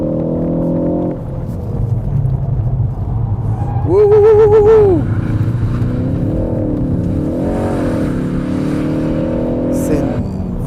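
A Ford Focus ST accelerates on a race track, its engine rumbling steadily, then revving harder and swelling up before settling back, while a man whoops briefly over the engine noise.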